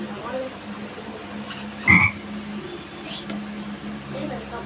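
Frogs croak close by in a quiet outdoor setting, one sharp loud croak standing out among faint scattered calls, with a low steady hum underneath.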